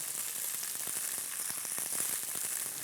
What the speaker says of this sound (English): you should hear that really nice sizzle